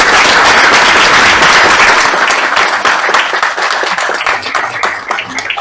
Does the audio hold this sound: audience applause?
yes